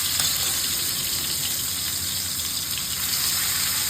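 Slices of elephant foot yam frying in hot oil on a tawa over low heat, a continuous close, even sizzle and crackle with no voices.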